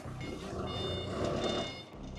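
A 3.5-ton dual-wheel forklift with a Japanese Mitsubishi engine runs at a low steady rumble while driving, with a repeating electronic reversing beep sounding over it.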